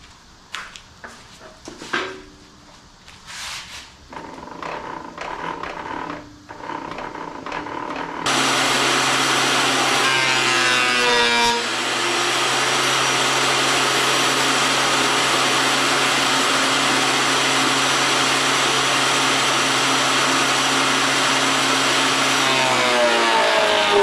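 A Vevor benchtop planer starts up with a sudden loud, steady whine and hum, then planes small walnut pieces through it with brief rising and falling cutting sounds over the motor's drone, after a stretch of quieter handling noises.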